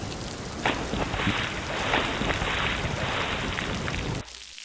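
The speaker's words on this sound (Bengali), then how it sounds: "বৃষ্টি তো দেখছি এবার ধরার নামগন্ধ নেই" Steady, dense rain pours down in a Bengali cartoon scene, a loud continuous patter and wash of drops with no talk, cutting off abruptly near the end.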